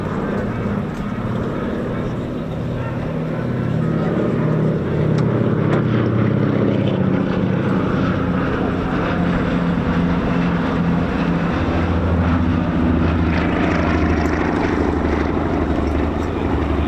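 A vintage 1930s Supermarine Spitfire Mk.1 photographic reconnaissance aircraft drones with a steady, continuous piston-engine and propeller roar that holds at an even level throughout, with a slight swell midway.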